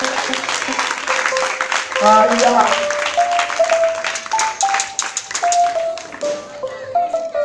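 A congregation at an evening church gathering applauds with dense, rhythmic clapping while a voice speaks over it and a melodic instrumental line plays throughout.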